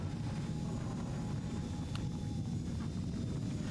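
A drill in a video game that sounds like an idling jet engine, a steady, loud, unbroken rumbling roar with a hissing top end that holds level throughout.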